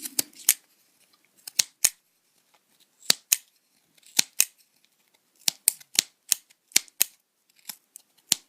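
Scissors trim cardboard for a homemade dinosaur model in sharp, close snips. The cuts come singly and in quick clusters with short quiet gaps between them, and no one speaks.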